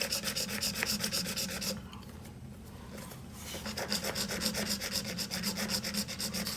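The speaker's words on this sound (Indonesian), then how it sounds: "Ini gergaji besi." Bare hacksaw blade, used without its handle in a cramped spot, rasps through a water stop-valve pipe in steady rapid back-and-forth strokes, close and loud, with a short pause in the middle before sawing resumes.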